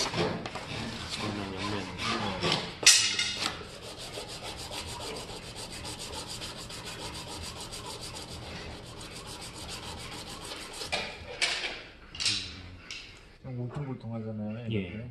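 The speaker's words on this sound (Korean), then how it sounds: "사포에 밀어버려요." A 65 mm Kakuri flat hand plane part is pushed back and forth across sandpaper, giving off repeated close scraping and rubbing strokes. Someone talks over much of it.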